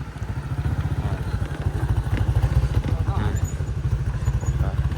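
A motorcycle rides a rough, uneven mountain road between Pessel and Solok via Bayang, its engine throbbing steadily and loud close by, with occasional clattering bumps from the surface.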